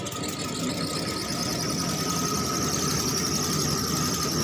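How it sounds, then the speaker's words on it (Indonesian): The engine of a Honda Vario Techno 125 fuel-injection training simulator runs under throttle, a steady, close mechanical whine and hum holding an even pitch throughout, with no voices. "Nah, kemudian kita coba gas ya."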